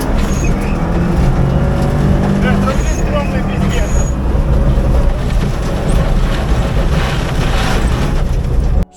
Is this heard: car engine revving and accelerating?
yes